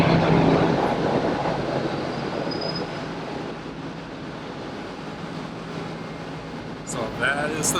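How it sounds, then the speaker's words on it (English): A train bound for Madrid at a station gives off a steady, loud rumble and hiss that fades slightly, with people talking nearby and a brief rise near the end. "So that is the train we are riding."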